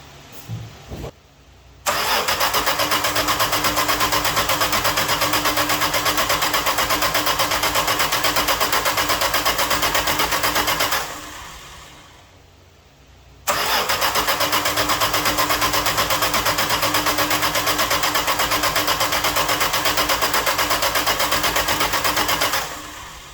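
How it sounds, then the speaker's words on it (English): A 1974 Dodge Dart Sport that sat 22 years, with a rebuilt carburetor, cranks and fires into a loud, steady running roar, cuts out briefly around the middle, then restarts and runs strong again until the end. "we'll fire this thing up, see if that carburetor is any better"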